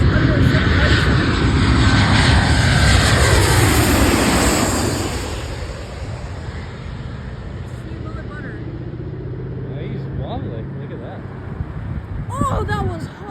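A Boeing 737 airliner passes low overhead at Burbank Airport in a gusty crosswind, a loud broad engine roar building for several seconds then fading away, with people talking excitedly underneath.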